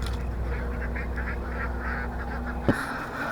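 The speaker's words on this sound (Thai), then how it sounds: "เสียงดังนิดนึงเนาะ เพราะมันอยู่กับติดกับล้าวเป็ด" Ducks quacking faintly in the background of an adjoining duck pen over a steady low hum, with a sharp knock near the end.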